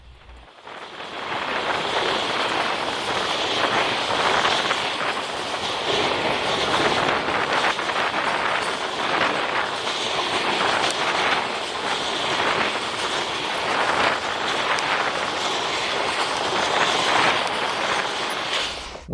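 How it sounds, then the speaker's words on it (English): A New England Central freight train led by GP38-2 locomotive 2168, with a C40-8 unit trailing, rolls past on the Palmer Sub. It makes a loud, continuous rumble and roar that stays steady for the whole stretch, with heavy wind buffeting the microphone. "Today's train is led by NECR 2168, a GP38-2, with one of NECR's newly acquired C40-8 units trailing."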